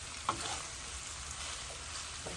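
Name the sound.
stirring salted cod dish in a pan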